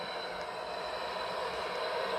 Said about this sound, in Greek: Ήρθε το τρένο.